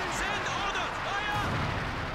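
Dense battlefield rumble with heavy booming artillery fire from the World War II strategy game Company of Heroes 2, loud and continuous over a two-second stretch, overlapping with voices in the mix.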